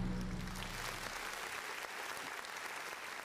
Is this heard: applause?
yes